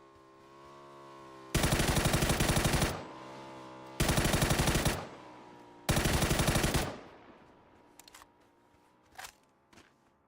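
Automatic weapon fire in PUBG, three loud sustained bursts of rapid shots separated by short pauses, followed by a few fainter isolated clicks and shots trailing off near the end, no talk.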